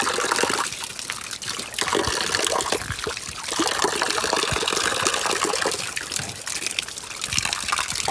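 Cold water flowing in a continuous, close trickle and gush that keeps running steadily throughout, with no talking.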